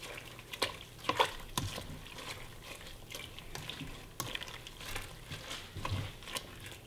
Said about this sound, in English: so we just have to stir it